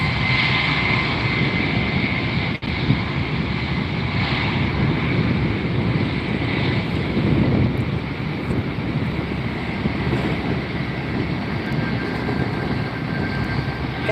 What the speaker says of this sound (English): Air Canada taking off.